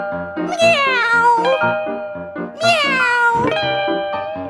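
Voices singing drawn-out, sliding meows in imitation of a cat, two long rising-then-falling calls over a bouncy piano accompaniment at a ragtime festival.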